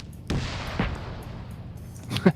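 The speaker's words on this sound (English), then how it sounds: "Tank firing." A tank firing in a competitive video game match, heavy booming shots, one near the start and another just after, followed by a closer sharp blast, with game ambience rumbling between.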